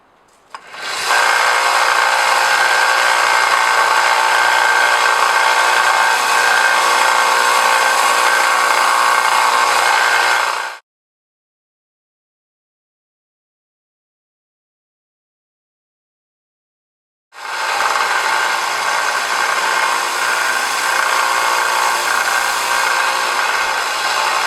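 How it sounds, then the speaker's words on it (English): A belt sander fitted with a 220 grit belt sharpens an axe, giving a loud, steady grinding whir for about ten seconds, then silence, then a second long stretch of grinding. "This is a 220 grit belt. So this is going to put a little bit finer edge on this."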